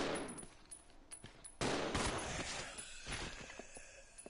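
Rapid gunfire from Rebecca shooting an enemy in Resident Evil 0 HD, with loud bursts of shots and clattering impacts over a constant noisy game backdrop.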